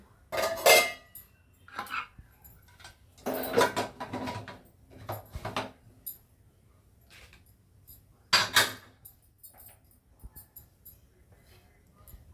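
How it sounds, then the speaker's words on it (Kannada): A plate set down over a cooking pot in a home kitchen, several sharp metallic clinks and clatters spaced across the clip, with quieter handling noise between them. "ಅದ್ರ ಮೇಲೆ ಒಂದು ಪ್ಲೇಟ್ ಮುಚ್ತೀನಿ"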